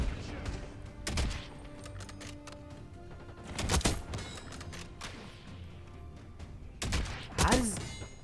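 Sniper rifle fire in Call of Duty: Black Ops 6 on Nuketown: three sharp, loud shots spaced several seconds apart, each with a crashing tail, over a busy game background and brief voice.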